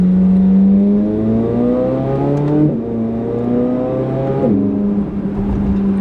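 Sports car engine revving hard toward 8,000 RPM with carbon fiber parts, loud and close from inside during a drive, rising in pitch through the gears with two clear shift drops and no talk.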